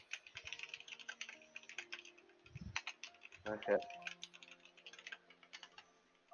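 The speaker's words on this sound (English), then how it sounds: "You hear that noise? Hear that typing sound?" Soft, rapid keyboard typing, quiet and steady, with a brief spoken word and a few other faint clicks.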